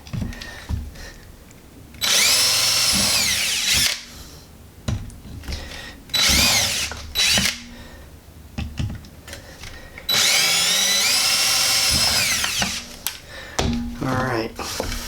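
A handheld power drill bores through material during a Speeduino Ocelot build for a 2RZ engine, with three long, loud whirring runs and short bursts between them, close to the microphone.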